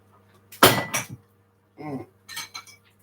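Cutlery and dishes clatter and clink during washing up, with a loud burst of jangling metal followed by a few quieter clinks and rattles, close by.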